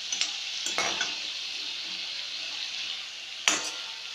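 Red chili powder frying in hot oil for a pea masala curry, a soft steady sizzle broken by a few sharp spoon scrapes as it is stirred near the start and again toward the end.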